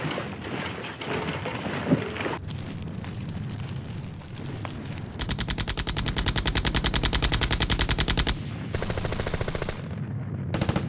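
World War II battle noise: bursts of machine-gun and rifle fire crackle in rapid rhythmic strings over heavy booming tank fire, loud and continuous with dense rolling rumbles underneath.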